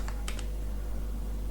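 Keystrokes on a computer keyboard while code is entered in Notepad: a quick burst of three or four sharp clicks near the start, then quieter scattered taps over a steady low hum.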